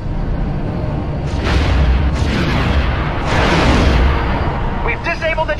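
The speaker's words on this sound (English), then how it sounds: "I need to use my ion guns." Ion cannons fire at a transport ship in the Star Wars Rogue Squadron space combat game, heavy booming bursts and rumbling blasts rolling over a loud roar of engines, with a crackling burst near the end.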